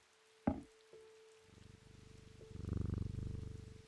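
A cat purrs as it is petted in the video game Strange Antiquities, a soft rhythmic rumble building after a couple of light taps and clicks, close and quiet.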